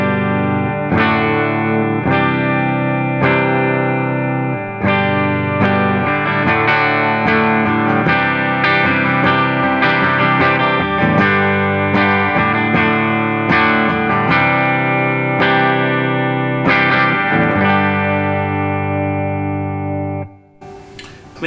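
Diamond Guitars Monarch electric guitar on the bridge pickup through the Mesa amp's red channel, clean tone, bright chords struck one after another in a steady rhythm, ringing out before fading at the end.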